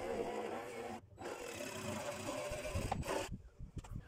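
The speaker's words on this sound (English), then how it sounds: "Then I marked the positions for the bolt holes on each porthole and drilled these out as well." A drill bores bolt holes through the side of a small boat for portholes, giving a rough, grinding whir that runs in bursts with brief pauses, close and fairly quiet.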